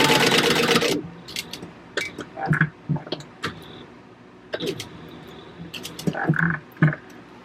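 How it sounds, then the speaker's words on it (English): A sewing machine stitching fabric for a pumpkin bucket bag runs in a fast, steady burst at the start. Scattered clicks and handling sounds of the fabric follow. "So let's go to the sewing machine and do that."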